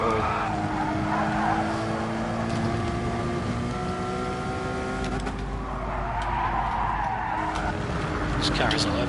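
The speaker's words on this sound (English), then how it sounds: "This car is all over the shop here." A car in a racing video game skids with tires squealing over a loud, continuous engine whine that rises and falls throughout, with a sharper screech near the end.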